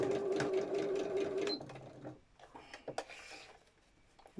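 A sewing machine stitches down the side of a hexie puff bag in a fast, steady whir for about a second and a half, then stops, leaving soft handling clicks and rustles.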